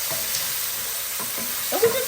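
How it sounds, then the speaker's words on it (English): Onions and fresh vegetables sizzle in a hot pan as they are stirred around, a constant close frying hiss with soft scraping pushes of the utensil. "Get that sizzling. Let's move it around."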